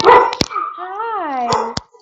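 A pet dog indoors gives a short bark, then a drawn-out whining, wavering howl that rises and falls, punctuated by sharp clicks, loud and close.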